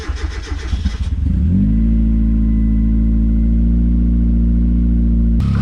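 A turbocharged Mazda Miata cranks briefly with rapid chugging, then catches and settles into a loud, steady, close-up idle with a deep, even drone.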